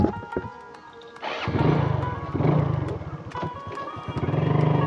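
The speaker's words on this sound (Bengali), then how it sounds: "তো চলো বাইক স্টার্ট দেওয়া যাক। এটা হচ্ছে আমার গ্ল্যামার 125cc বাইক।" A Hero Glamour 125cc motorcycle engine starts with a brief cranking clatter, then settles into a loud, close idle that swells with a couple of throttle blips.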